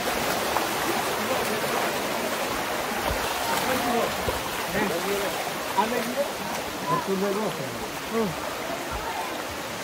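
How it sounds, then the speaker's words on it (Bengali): Waterfall and jungle stream at Napittachora pour a steady broadband rush throughout, loud and even, with faint voices and footsteps now and then beneath the flowing water. "ফাইনালি আমরা ঝর্ণার সাউন্ড শুনতে পাচ্ছি।"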